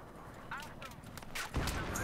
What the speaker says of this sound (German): Wird beschossen.